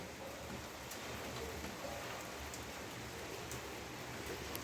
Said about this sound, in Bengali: বৃষ্টি তো বেশ আরম্ভ হয়ে গেছে